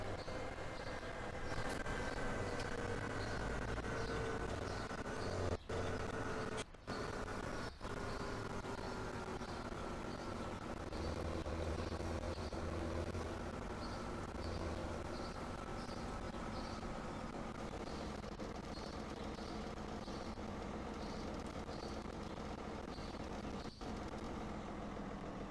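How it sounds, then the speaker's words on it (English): A truck drives by outside an open window, a long low rumbling engine drone that stays steady and fairly distant, with a few sharp clicks near the microphone. "Sounds like a truck driving by."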